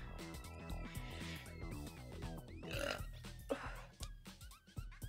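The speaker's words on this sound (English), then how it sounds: "I'm just burping so much." A person burping repeatedly while playing a video game, with deep, croaky belches standing out over busy game music and sound effects.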